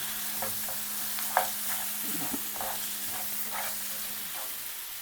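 Crab pieces are stirred with masala in a pan for crab roast, a steady low sizzle with repeated scraping strokes, a single clack and a faint constant hum behind.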